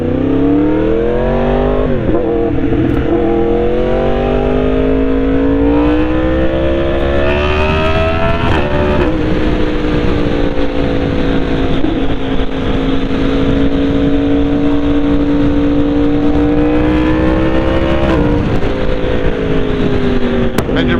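A car engine drones loudly throughout under hard engine braking while downshifting, its pitch sliding down and up as the revs change, with a brief rev-matching blip around the middle; close and continuous.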